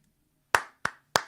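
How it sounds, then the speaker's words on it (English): Three deliberate hand claps spaced about a third of a second apart, each a crisp, close, sharp smack with a short decay, in an otherwise quiet room. "Slow clap."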